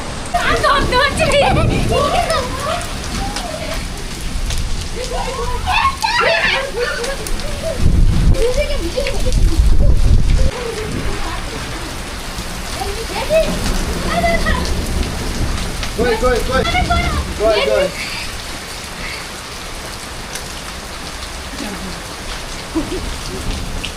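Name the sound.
hailstorm with rain falling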